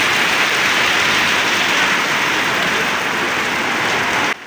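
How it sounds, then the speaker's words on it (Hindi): Heavy torrential rain pours down in a dense, uniform hiss of countless drops hitting surfaces, loud and unbroken, ending with a sudden cut. "बाद अज़ां मूसलाधार बारिश का सिलसिला शुरू हो गया"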